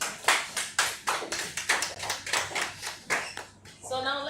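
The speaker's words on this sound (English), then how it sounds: "So you can clap for her now." At a student association event, a small audience claps in scattered, uneven bursts of separate hand claps, close and moderately loud, fading near the end as a voice briefly cuts in.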